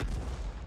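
An artillery self-propelled gun firing in World of Tanks, a single deep, muffled boom that rumbles briefly and fades.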